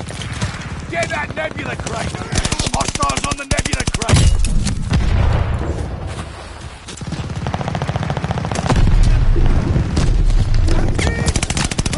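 Sniper gunfire in an online shooter game, with dense, loud, rapid shots and gunfire-like clatter running throughout, heavy low rumble in places, and voices talking over the action.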